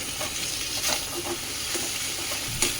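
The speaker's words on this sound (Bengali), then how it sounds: "এখন এর মধ্যে সবজি কলা ভিজে কলা সব দিয়ে দিচ্ছি" Vegetables and soaked plantain are tipped into spices frying in a pan and stirred, a continuous sizzle broken by scraping strokes of a spatula at irregular intervals.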